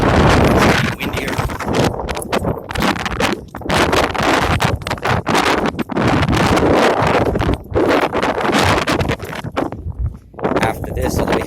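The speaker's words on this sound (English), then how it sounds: "It's getting windier." Gusty wind buffets the microphone at the top of a desert volcanic crater, a loud, continuous roar with brief lulls and rustling, heard close and alone.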